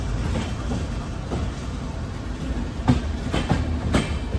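A Poorna Express sleeper train runs on rails from Pune, its loud rumbling roll carrying throughout with a few sharp clacks of the wheels near the end.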